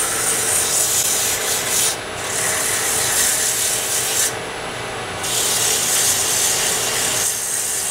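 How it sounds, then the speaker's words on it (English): Coarse sandpaper rubbing against a turned wooden workpiece on a lathe, a steady loud hiss broken by two short pauses. "take a piece of fairly coarse sandpaper and just sort of blend out any of my tool marks"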